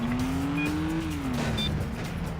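A car in the PS2 stunt-driving game Stuntman swings through a 180 handbrake turn, its engine droning loud and steady while the tires squeal briefly.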